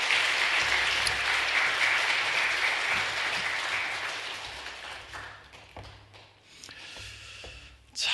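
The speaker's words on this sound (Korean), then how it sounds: "우리 감사의 박수로 모시겠습니다" Sunday worship congregation giving a thank-you round of applause for a visiting pastor, a broad dense wash of clapping that holds steady, then gradually thins and fades toward the end.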